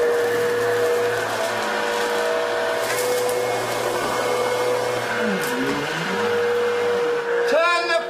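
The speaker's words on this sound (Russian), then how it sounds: "Ненавижу звук пылесоса." A loud, steady motor whine drones throughout, shifting pitch midway as if the suction changes, with a rattling burst near the end.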